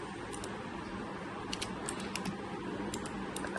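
Terminal commands typed on a computer keyboard: quick bursts of light key clicks, close but faint, over a steady hiss of background noise.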